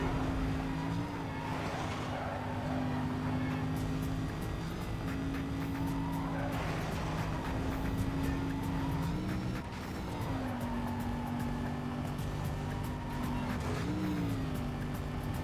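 A Mercedes car in the racing game Need for Speed Most Wanted drones loudly and continuously. Its tires screech in several separate skids spaced a few seconds apart, with no voices over it.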